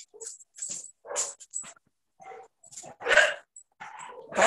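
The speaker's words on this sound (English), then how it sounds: "Barking, barking, barking." A dog barks in short, irregular bursts with yips and whimpering whines between them, fairly close and alone, separated by brief pauses.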